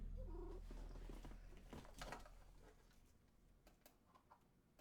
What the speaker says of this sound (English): That's what happens when a cat jumps on your desk when you're recording.